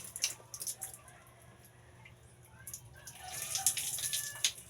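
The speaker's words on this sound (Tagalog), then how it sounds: "dumadampi yung tubig na malamig sa iyong katawan" Cold water poured over the body during an early-morning bath, with splashing and gushing bursts at the start and a heavier, continuous pour toward the end, fairly close and moderately loud.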